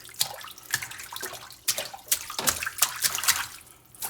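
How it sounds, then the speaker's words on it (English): Fresh dill sprigs being rinsed in a basin of water, giving a continuous close splashing and sloshing with irregular bursts as the herbs are swished about, with no voices. "So we'll just give it a bit of a rinse in the water there."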